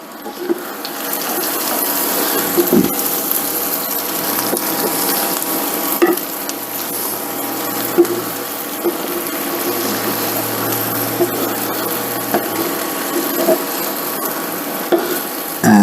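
Chicken and potatoes with oregano are stirred in a hot pan, giving a loud continuous sizzle punctuated by repeated sharp clicks and scrapes of the utensil, close up, with no talking.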